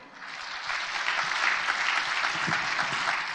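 An audience at a church gathering breaks into applause that swells quickly after a soft start and holds as a continuous, even clatter of many hands.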